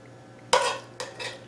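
A spoon scrapes and clinks against a pan as turkey meatball mixture goes into squash shells, two quick metallic knocks close by with a soft scrape between them.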